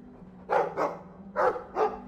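The dog Muffin in Dragon Age 2 barks four times, in two quick pairs of mid-pitched woofs, close and clear over a low steady hum.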